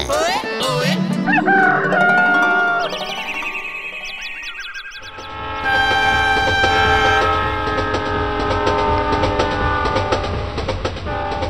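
A train roars past with a loud horn blast and rhythmic rail clatter, the noise dipping briefly before another long horn and rolling wheels continue.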